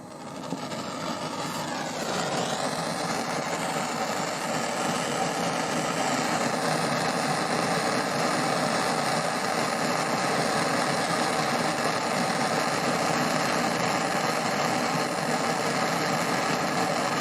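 A steady, loud roaring hiss of a gas torch flame heating a Mauser 98 rifle safety, continuous and close, with a low mechanical rumble underneath.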